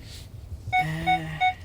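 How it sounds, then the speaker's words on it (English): The parking sensor of a 2020 Hyundai Palisade Preferred gives three evenly spaced electronic beeps, clear and moderately loud inside the cabin. "Oh, it has the sensors too, this annoying beep"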